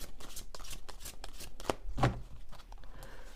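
A deck of playing cards being shuffled and cut by hand in a quiet room, a run of soft riffling flutters and taps ending in a couple of sharper slaps.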